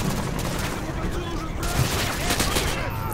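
Rapid gunfire in the video game Call of Duty: Modern Warfare 2, a dense continuous fusillade of overlapping shots at steady loudness throughout.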